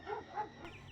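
A dog barks briefly, a short muffled bark or two over background noise.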